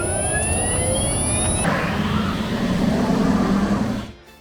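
An electric car's motor and inverter give a high, thin whine with faint rising tones over a broad rushing drone, then fade out near the end.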